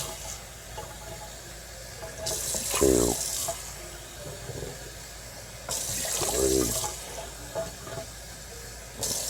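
Tap water runs into a measuring cup in a home kitchen for canning syrup, two separate bursts of filling with rising pitch as each cup fills, while a person counts aloud.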